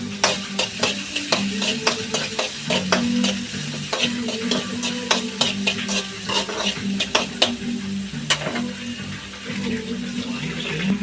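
Vegetables for veg Maggi noodles sauté in a pan, a loud continuous sizzle broken by rapid repeated spatula scrapes and taps against the metal, close and busy throughout, no talking.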